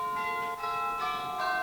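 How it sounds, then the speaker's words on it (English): Church bells ring in a steady, resonant peal with overlapping tones that sustain and layer, clear and fairly close, with no voices. "Hearing church bells ringing,"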